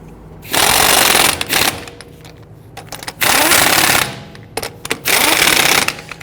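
An impact wrench runs down lug nuts on a Ford Taurus rear wheel in three loud, sustained bursts about a second each, with brief pauses and a quieter idle hiss between them.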